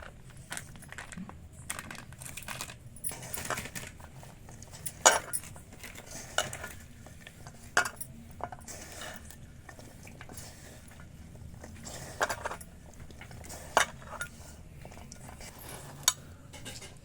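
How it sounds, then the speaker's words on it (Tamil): Gram flour pakoda batter with onions being stirred in a bowl, giving a soft, steady wet mixing with scattered sharper clinks of a spoon against the bowl, close and fairly quiet, with no talking. "மாவு நல்லா நம்ம கிளறி விட்டு கட்டாச்சு"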